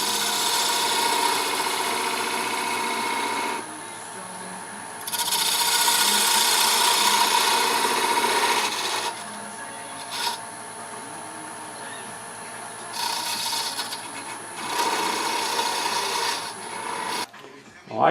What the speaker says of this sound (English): Use my detail spindle gouge to cut in